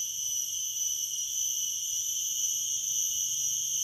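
Garengpung cicadas call near a fishing spot, a steady, piercing high-pitched drone that holds without pause at moderate distance, with no talking.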